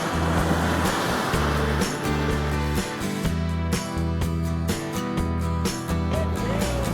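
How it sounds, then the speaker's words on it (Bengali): Sea waves break and wash up a private beach near Kolkata, a loud, continuous roar of surf with periodic surges as each wave arrives, plus a rhythmic mechanical thumping running underneath. "ঢেউ দেখো, ঢেউ দেখো।"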